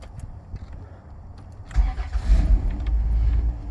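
A 2002 Dodge Grand Caravan engine cranks and catches at about the midpoint, then settles into a steady, close, low rumbling idle after a quiet stretch of faint cabin noise.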